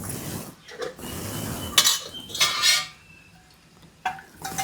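Metal idli plates set into an idli steamer pot with water in it, giving a few clinking, clattering metal knocks with quieter handling noise in between.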